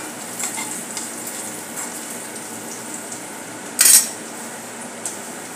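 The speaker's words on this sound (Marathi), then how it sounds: "हिंग चांगला परतून घेऊया।" Asafoetida sautéing in a pan for a Marathi drumstick and potato curry gives a steady close sizzle, with a few light utensil clinks and one sharp scrape near the end.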